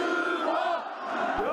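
Large crowd at a funeral procession for a 15-year-old boy in Turkey, a dense, loud wall of massed voices shouting and crying out together, steady and close throughout.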